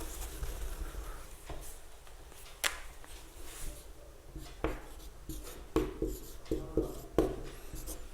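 Chalk or marker strokes on a board during a maths lesson give quiet scratching taps in short irregular bursts that grow denser toward the end, over faint room hum.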